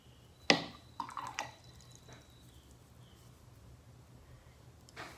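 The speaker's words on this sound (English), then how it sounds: "here I will put some spray water" Water sprayed onto a watercolor painting, a sharp hissing spritz followed by a few quick softer bursts in a quiet room, then near silence.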